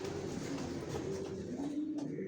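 Racing pigeons coo softly in a loft, low, gentle, repeated murmurs over a faint background of shuffling and rustling.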